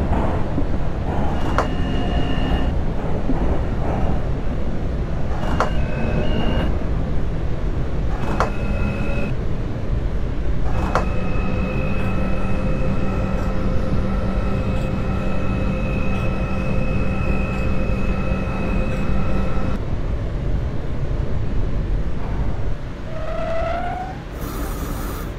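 An R160A/C subway train in the OpenBVE simulator game runs steadily toward Broadway Junction, a continuous rumble with sustained motor whine tones and intermittent clicks and rail knocks, rising pitch near the end.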